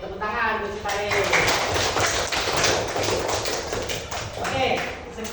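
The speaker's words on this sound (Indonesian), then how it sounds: "Oke, tepuk tangan untuk si Farid." A classroom of fourth-grade students applauds a classmate, a dense burst of many hands clapping steadily for several seconds, with voices mixed in.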